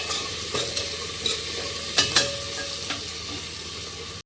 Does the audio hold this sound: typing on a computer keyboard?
no